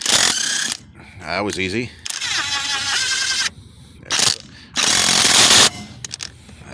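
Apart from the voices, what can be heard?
Seesii WH710 impact wrench removing rusted lug nuts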